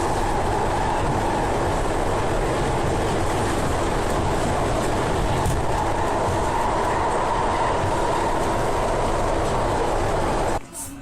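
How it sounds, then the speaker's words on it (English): A train rumbles steadily for about ten seconds, a loud continuous rolling roar with broadband noise, ending abruptly. "So let's get our train now."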